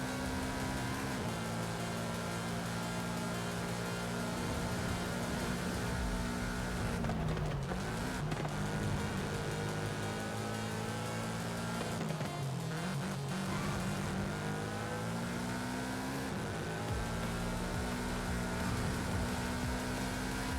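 Race car engines roar steadily in a racing video game on the Long Beach circuit, loud and continuous, with pitch swells and dips as the cars shift gears and brake through corners, and no voices over them.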